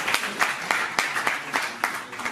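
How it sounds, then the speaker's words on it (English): Audience at a Mumbai festival announcement event applauding, a moderate burst of claps with sharp individual hand strikes standing out from the crowd. "big round of applause for Harjeet ji."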